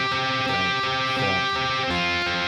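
Chorus riff of a song played on guitar: dense, continuous strummed chords ring out loud and full, shifting chord shapes every half second or so with no talking.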